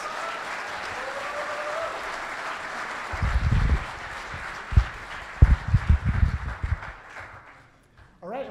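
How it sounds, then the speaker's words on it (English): An audience at an AAAI Oxford-style academic debate applauds the panel of debaters, a steady hall-filling wash of clapping with a few heavier thumps near the mic before it fades out. "Let's all give them a round of applause."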